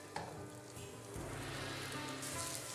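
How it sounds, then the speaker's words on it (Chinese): Beaten egg fries in a little hot oil over low heat as an omelette, giving a quiet, steady, fine sizzling crackle that swells slightly midway. "一面煎至金黄后翻过来煎另一面"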